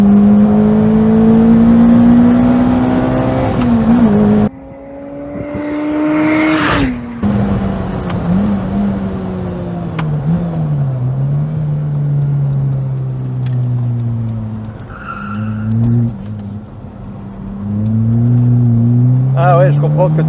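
Lotus Elise S2 111R engine and exhaust while driving with the roof off, a continuous drone rising and falling through gear changes and revs, mixed with road noise, with people talking over it.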